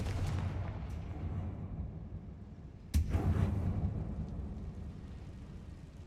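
The Confringo fire spell in Hogwarts Legacy lands as a single sharp, booming blast midway, with a rumbling tail fading over a low continuous background drone.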